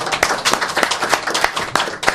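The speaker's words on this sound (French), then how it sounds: "Eh ben, on peut l'applaudir quand même." A French television studio audience applauds after a song, its claps landing in a clear, steady rhythm at close range, with no talk over them.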